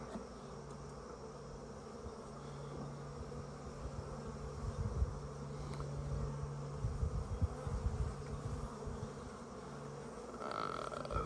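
Honeybees buzz around an open beehive frame, a faint steady hum with a low drone running underneath throughout.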